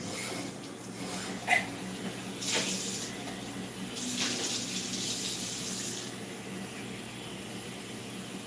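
Water runs from a tap into a sink in an indoor room, a steady broadband flow under faint background noise with a few brief clinks.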